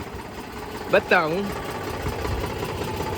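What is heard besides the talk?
tractor engine running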